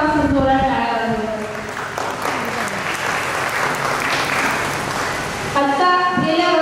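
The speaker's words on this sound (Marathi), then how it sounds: "त्यांच्यासाठी खरंच एकदा मनापासून जोरात टाळ्या वाजवा." An audience at a retirement ceremony for an agriculture officer breaks into loud, sustained applause in the middle, with a speaker talking before and after it.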